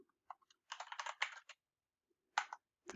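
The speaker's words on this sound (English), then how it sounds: "I'm going to type something." Keys clatter on a computer keyboard in two short, close bursts of rapid clicking, split by a brief silent gap, with a final keystroke at the end.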